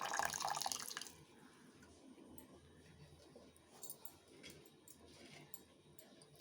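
Cooking water from boiled horse gram is strained and poured into a rasam, a brief splashing pour in the first second, then faint drips and quiet kitchen sounds.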